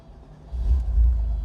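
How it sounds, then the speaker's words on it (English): Cold start of a 1991 Porsche Carrera 4 Cabriolet with a 5-speed manual, a deep low rumble that catches suddenly after half a second and settles into a steady, close idle. "Do a little cold start for you here."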